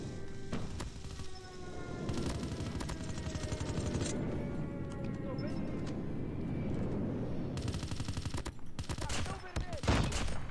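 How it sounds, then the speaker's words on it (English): Friendly airstrike in Call of Duty Mobile, with rumbling explosions and bursts of rapid gunfire over a low aircraft drone, loud crackling volleys at the start and again near the end, with game voices and chatter underneath. "Friendly airstrike incoming."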